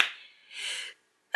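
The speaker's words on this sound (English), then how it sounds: "I need to sneeze." A single close sneeze: a sharp breathy intake followed by a hissing release, fairly faint and alone, ending with a brief click.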